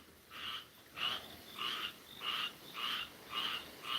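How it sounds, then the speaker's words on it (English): A frog croaks at night in a steady rhythm, about seven repeated croaks over a quiet, hissy background. "I don't know what kind of frog that is."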